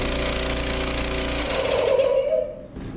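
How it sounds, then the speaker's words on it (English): Dry-system fire sprinkler air compressor running steadily with a loud mechanical clatter and a high whine, the pitch shifting as it settles, then the noise drops near the end. "I'm going to go ahead and fire up the compressor real quick and just see that we're at least pumping air."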